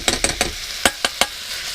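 Onions are tossed in a hot wok, aboard a boat. Six sharp scraping clatters come in two quick groups of three, over a steady low sizzle.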